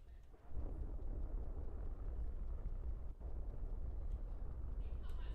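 Rocket stage separation in the Kerbal Space Program video game: a continuous deep rumbling roar after a brief dip at the start, with a short drop around the middle, broad and loud, with no clear speech.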